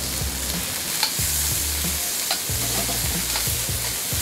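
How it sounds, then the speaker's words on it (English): Ingredients stir frying in a hot pan, a loud steady sizzle with spatula scrapes and stirring clatter close up, no one talking. "Alright, you gotta hear the sizzle."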